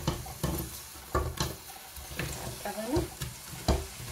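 Sliced zucchini dropped by hand into a hot pan for a zucchini sauce, giving bursts of sizzling and frying with a few sharp clatters and stirring noises, fairly close and moderately loud.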